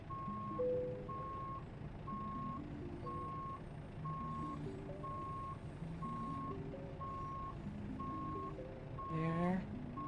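Truck reversing alarm in American Truck Simulator, a steady string of evenly spaced electronic beeps at a moderate level, layered over a low rumbling diesel engine, with a short air brake hiss close to the end.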